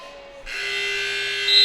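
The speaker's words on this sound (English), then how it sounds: "The buzzer goes off." Electronic buzzer ending a women's basketball game between the Jayhawks and Glen Oaks, sounding as a sustained steady buzz that holds for over a second and swells slightly louder at the end, with no talk over it.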